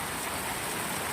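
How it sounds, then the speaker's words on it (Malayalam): Heavy rain during a thunder and lightning storm, a brief, steady, close hiss of downpour with no distinct thunderclap. "നല്ല ഇടിയും മിന്നലും മഴയും"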